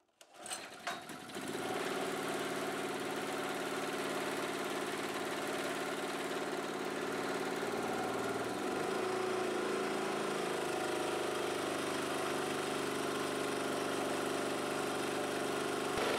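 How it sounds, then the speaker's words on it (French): A petrol generator running on 10-40 oil hums at a steady, continuous drone from a close position after a brief start, its mid-pitched engine note holding constant throughout with a slight shift in load partway through. "le générateur produit une puissance de 1048 watts"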